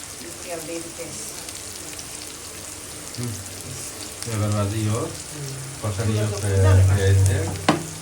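Onions fry in oil in a home kitchen with a steady crackling sizzle, while voices talk intermittently over the cooking noise, growing louder toward the end.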